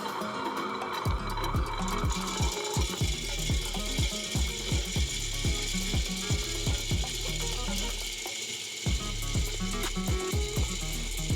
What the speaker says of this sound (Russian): Включаем меланжор и засыпаем в него фисташку.